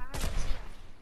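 A sniper shot fired in Fortnite, a single sharp crack followed by a short rumbling tail, loud and close, with a voice faintly underneath.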